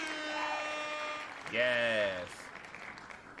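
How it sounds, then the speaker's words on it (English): A canned applause sound effect plays on a live stream, a short burst of clapping and cheering mixed under a voice speaking briefly. "We're gonna give you an applause for that."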